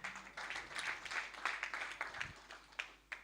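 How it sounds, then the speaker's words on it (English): Audience hand claps at a regional civil society conference session, a steady spread of many hands clapping at moderate distance, fairly faint throughout with a few sharper claps standing out near the end. "Another big hand clap for Eddie"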